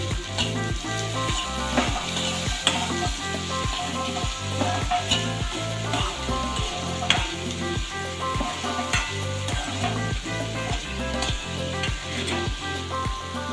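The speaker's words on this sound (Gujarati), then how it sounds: "આ બધું જ હલાવી દઈશું।" Cluster beans with chilli and salt sizzle loudly in a pan while a spoon scrapes and stirs in a steady, repeating rhythm, no voices.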